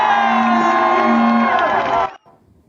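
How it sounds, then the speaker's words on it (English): A large protest crowd chants and shouts in unison, loud and sustained for about two seconds before cutting off abruptly. "Crowds chanting Intifada and Jihad, as you just saw"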